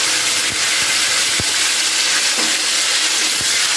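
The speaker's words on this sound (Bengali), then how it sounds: "এবার আমি আলুটাকে ভেজে নিচ্ছি তেলের মধ্যে।" Potatoes fry in hot oil seasoned with cumin seeds and bay leaves, a continuous loud sizzle with a few soft knocks of stirring, no voices.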